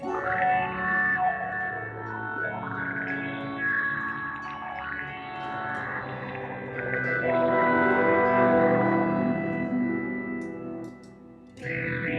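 Electric guitar run through effects pedals, with warbling, distorted tones and high-pitched sweeps gliding up and down, loud and continuous with no talking.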